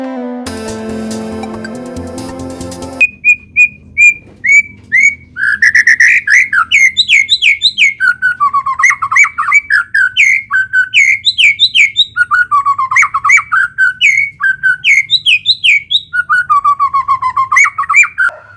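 A white-rumped shama (murai batu) sings loud and close, pouring out repeated bright whistled phrases and trills after a brief tonal sound at the start.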